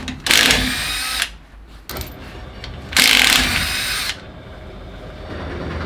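A power tool whirs in two loud bursts with quieter mechanical rattling between them while a car body panel comes off a low-cost Jaguar drift car.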